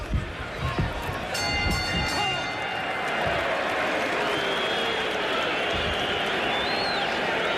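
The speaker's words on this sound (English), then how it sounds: "I think the crowd is applauding the courage of Steve Zouski as much as they're applauding the efforts of Mike Tyson" Boxing crowd at a Mike Tyson versus Steve Zouski fight cheering and applauding in a sustained, dense roar, with a commentator's voice partly audible over it.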